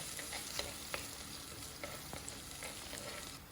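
Chopped shallots and garlic frying in a pan for a Kerala fish curry, with a steady sizzle and occasional scraping clicks of a stirring spoon.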